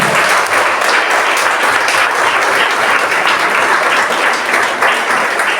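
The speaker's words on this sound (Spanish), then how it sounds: "Denle un aplauso al Señor" A church congregation applauds together, a loud, dense and sustained wash of clapping that holds steady for several seconds with no voices over it.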